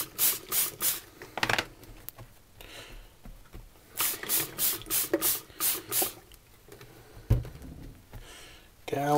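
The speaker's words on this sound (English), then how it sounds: "a bit of spray with some water," Repeated short bursts of a spray bottle pumping water onto a sponge inside a container, for a reusable wet palette, hissing in quick rhythmic groups with brief pauses between, close to the microphone.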